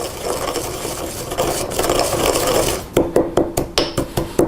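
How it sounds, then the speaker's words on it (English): Peppercorns and chili flakes ground by hand for a meat stuffed roll filling: a loud, continuous gritty crunching for about three seconds, then a series of separate, evenly spaced grinding crunches. "I'm gonna grind up some more of this so that we have about 2 tablespoons of the peppercorns."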